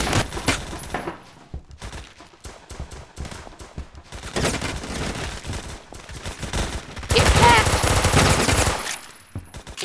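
Gunfire from a Roblox first-person shooter game: dense, loud bursts of automatic weapon fire with scattered single shots, rising into a heavy sustained barrage near the end.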